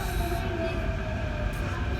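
Inside a moving metro train, a steady low rumble of wheels and carriage noise fills the space at constant loudness, with no voices standing out.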